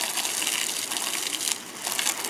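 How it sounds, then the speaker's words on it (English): Water spray pre-soaking a muddy ATV, a steady broad hiss of rushing water close by, continuous and fairly loud for about two seconds. "what I'm going to do right now is just pre-soak it with the water,"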